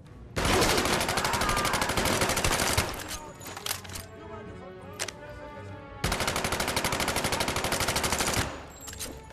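Gunfire from the VR shooter Medal of Honor: Above and Beyond: two long bursts of rapid automatic fire, loud and close, separated by a quieter stretch of scattered single shots.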